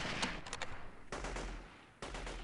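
Gunfire in the military shooter game Delta Force 2 as an enemy is shot: a few quick gunshot bursts, the first short and the later ones longer, fairly loud, with no talking.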